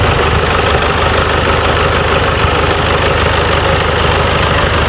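A tractor engine runs at a steady idle on a village farm, a loud, continuous, dense mechanical rumble with a knocking undertone that holds unchanged throughout, with no voices over it.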